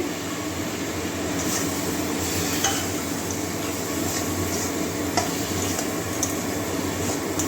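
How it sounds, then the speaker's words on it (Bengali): Mushrooms frying in a hot pan while being stirred for chilli mushroom, a steady close sizzle with occasional scraping clinks of the spoon against the pan, no talking. "এবারে মাশরুমটা দিয়ে দিচ্ছি"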